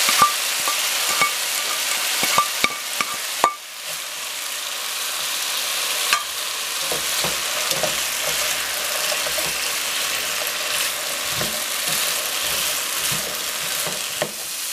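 Beef picadillo sizzles steadily in a pan as carrot goes in, a continuous loud frying hiss broken by a few clinks and stirring scrapes.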